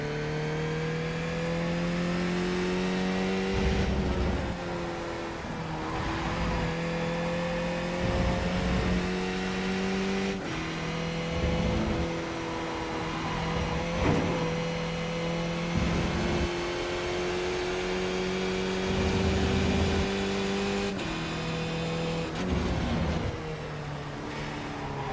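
A car engine in a racing video game drones steadily and loudly, its pitch climbing in long steps and dropping back at each gear shift, several times over the stretch, with no speech.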